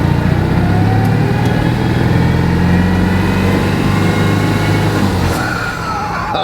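A Citroen 2CV's small engine runs steadily and loudly up close as the car pulls away in first gear, a continuous droning note with no voices over it.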